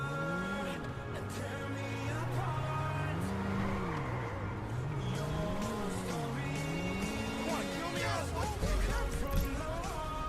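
A car's engine drones steadily in a video game, its pitch sweeping up and down as it accelerates and shifts, loud and continuous, with a deeper rumble near the end.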